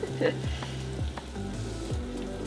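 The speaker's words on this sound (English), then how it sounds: "We're just gonna cook this tomato paste into that mixture for about 2 minutes before we move on to adding the cream." Tomato paste cooking into a mixture in a pan for vodka pasta makes a soft, steady sizzle with occasional clinks and scrapes, close by, over a low hum.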